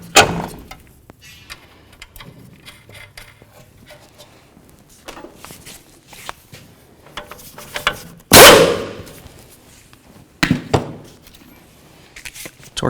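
Tools work on a 2003-2009 Toyota 4Runner front suspension to reconnect a tie rod end, with scattered metallic clicks, ratchet turns and a couple of sharp clanks and thuds amid quieter handling noises.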